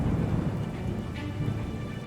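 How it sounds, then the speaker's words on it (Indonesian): Heavy rain pours steadily through a thunderstorm, a dense continuous wash with a low rumbling undertone of thunder, loud and close throughout with no voices. "kilat bergemuruh, petir menyambar ke seluruh tempat, dan hujan deras mulai turun"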